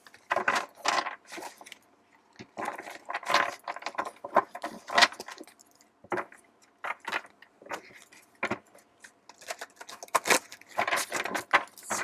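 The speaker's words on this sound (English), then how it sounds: "see how hard it is to shuffle these? Like, this card is huge." Large oracle cards being shuffled by hand, a run of irregular papery slaps, riffles and rustles close to the listener, coming in bursts with short pauses between them and no talk over them.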